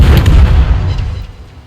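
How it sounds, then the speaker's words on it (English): A German tier 1 cruiser, the Hermelin, fires its guns in a naval battle game: a loud booming salvo right at the start, whose rumble decays over about a second and a half. "let's keep shooting"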